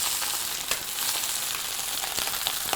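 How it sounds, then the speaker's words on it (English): Broccoli rabe frying in hot oil, a dense continuous sizzle with crackling pops scattered through, close and bright, with no talk. "now we're going to go right into our hot oil"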